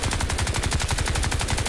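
Rapid automatic gunfire from the multiplayer video game Crysis 2 rattles in a steady, evenly spaced burst. It is loud, continuous and close, with no talk over it.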